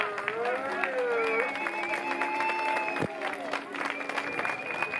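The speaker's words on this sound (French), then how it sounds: "On peut les applaudir, hein, les Vosgiens" Protest crowd at an anti-pass march in Colmar applauding marchers from the Vosges, scattered clapping and cheering mixed with chatter, whistles and voices, moderately distant and steady throughout.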